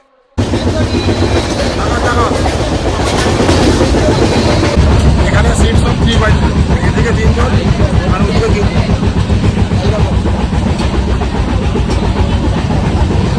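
The 12857 Tamralipta Express, running from Howrah toward Digha, races at high speed with a loud, continuous rumbling roar of wheels and carriage noise, while people talk nearby.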